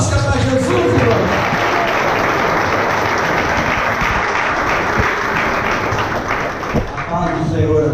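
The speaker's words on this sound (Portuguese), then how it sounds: "Vamos então receber o servo de Deus, pastor Fernando, com palmas" A church congregation in Naviraí, MS applauds the pastor with dense, continuous clapping that fills the room at steady loudness, with voices mixed in under the applause.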